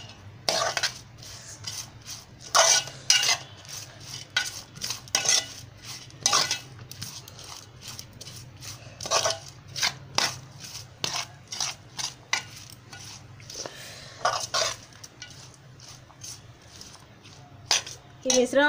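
A metal spoon stirs and mixes a cooking mixture in a pot, with repeated close clinks and scrapes in a steady rhythm while someone speaks over it.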